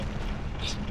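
A bomb goes off in the video game The Legend of Zelda: Ocarina of Time with a brief, rumbling booming blast that fills the moment.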